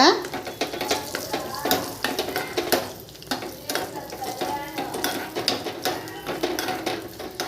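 Raisins and charoli nuts are tempered in a pan, with a brisk sizzle and repeated metal clinks and scrapes from stirring, close by, while a voice talks over it.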